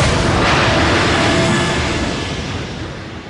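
A large explosion aboard the aircraft carrier HMS Courageous, struck by torpedoes during the Battle of the Atlantic, fills the scene as a loud, sustained roar and rumble that slowly fades over a few seconds, with no voices present.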